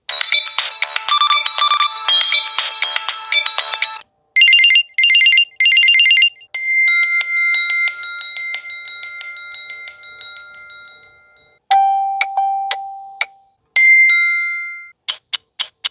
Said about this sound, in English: let's go and pull up the sound effects and give y'all some nostalgia if you had a Samsung Gear before